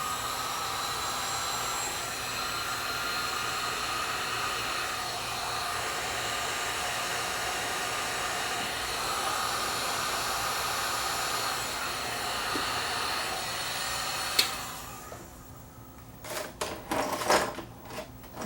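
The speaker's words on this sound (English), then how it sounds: "We can help it along by shrinking the heat shrink tubing" A heat gun blows a steady, loud, whooshing hum while shrinking heat shrink tubing during a repair of a broken control shaft on a Sansui 771 receiver; near the end it cuts off, leaving a few clicks and handling noises.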